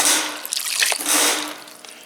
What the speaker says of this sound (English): we're going to add our chicken stock, and we've got 2 liters of chicken stock